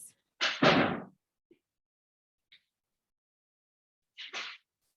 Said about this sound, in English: And our apologies if you can hear the doors.